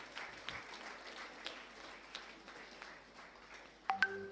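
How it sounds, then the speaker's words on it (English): An audience applauds at a forensic medicine department event at Government Thoothukudi Medical College, soft, scattered clapping heard at some distance, ending with a short electronic tone. "Please join me with a round of applause for Dr. Edwin Joe sir."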